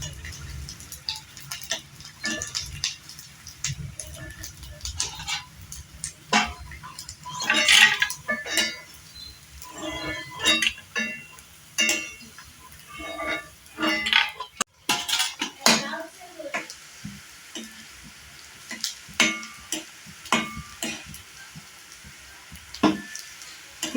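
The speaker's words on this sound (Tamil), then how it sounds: "இப்போ இந்த பூசணிக்காய் வடம் போட்டோம் இல்லையா, அதை வறுத்து காட்டுறேன்னு நாங்கள்" Ash gourd (pumpkin) vadam frying in a pan: irregular clatter of utensils against metal and scattered clinks over a faint sizzle, close and uneven, with occasional quiet voices in the background.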